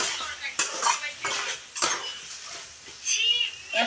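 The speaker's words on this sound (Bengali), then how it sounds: "এখন আবার একটু কষিয়ে নেব" Fried potatoes with masala are stirred in a pan, with repeated scraping strokes of a utensil and a light sizzle underneath, close and fairly clear.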